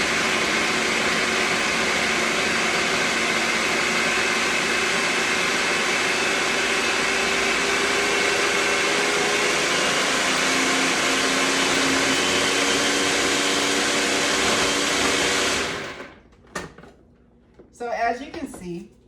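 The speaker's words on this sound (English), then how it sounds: "Next thing I'm going to do is blend this in my food processor." A food processor blending a vegan mock tuna mixture, a loud, steady motor whir with a slowly shifting pitch, running continuously for about fifteen seconds before stopping, followed by brief knocks.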